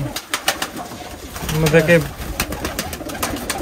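Pigeons in a loft give a brief deep coo mid-clip among scattered clicks and flutters, with someone talking over it.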